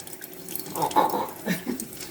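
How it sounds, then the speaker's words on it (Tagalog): A child washes dishes under a running tap, with water splashing and trickling over plates in a short, steady, close wash. A soft voice can be heard faintly underneath. "Gusto talaga maghugas ng ng plato."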